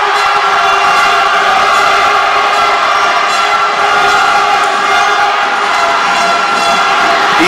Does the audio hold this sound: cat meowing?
no